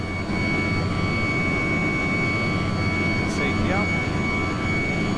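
Loud, steady roar of Tupolev Tu-154 jet engines filling the rear cabin in the X-Plane 12 flight simulator, a continuous low drone with whining tonal lines and a brief chirp partway through.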